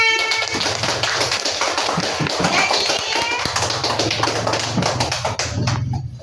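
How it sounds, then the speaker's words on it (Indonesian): A classroom of students applauds for a classmate, a dense, steady patter of many hands clapping continuously, close and loud, with a voice briefly audible underneath. "Ya, tepuk tangan untuk Risma."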